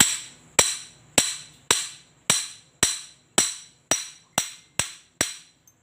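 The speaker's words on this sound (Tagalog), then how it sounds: "Pupukpukin lang natin yan guys." Eleven sharp metallic hammer blows drive a bicycle bottom bracket axle out of its shell, struck at an even, steady pace about half a second apart, loud and close with ringing decays and no talk.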